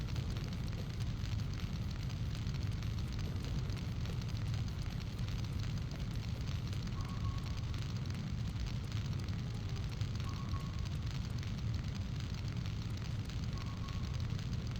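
Steady roaring crackle of fire burning in the Syphon Filter video game, a dense constant blaze filling the scene with faint repeated tones over it.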